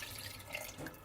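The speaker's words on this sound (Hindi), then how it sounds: "इसके अलावा मैं थोड़ा सा पानी इसके अंदर ऐड करूँगी।" About half a cup of water trickles into a pot of rice for chicken pulao, a quiet, brief splashing pour with small drips, heard alone.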